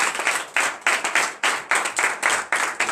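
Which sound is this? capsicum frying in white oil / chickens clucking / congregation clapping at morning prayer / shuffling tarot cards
congregation clapping at morning prayer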